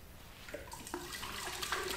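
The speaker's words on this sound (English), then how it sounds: "I'm going to put some tap water into that large beaker" Tap water pours into a large beaker as a faint, brief trickling splash under a soft background hiss.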